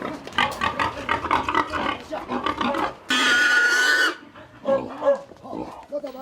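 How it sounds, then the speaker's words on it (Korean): A large pig squeals and grunts loudly as several men wrestle it down for slaughter before a rural village wedding, with a long piercing scream midway and people's voices around it. "어른 장정 5-6명은 붙어야 하는 돼지 잡기"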